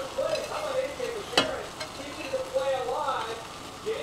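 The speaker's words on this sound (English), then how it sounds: "on a low heat, I'm going to take my conch and I'm going to add it" Conch pieces hit a pan over low heat for a ginger garlic seafood dish, giving a soft, steady sizzle with a sharp clatter as they land, then quiet stirring, with faint voice-like tones in the background.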